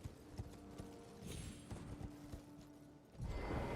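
Torrent, the horse in Elden Ring, trots with steady, soft hoofbeats in a quiet rhythm, followed by a louder whooshing rush at the end.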